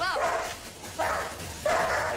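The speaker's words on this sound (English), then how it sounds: "whose boss's dog Bo is disrupting the workplace" An office dog gives three separate high, yelping barks spaced about half a second apart, fairly close and clear against a quiet room.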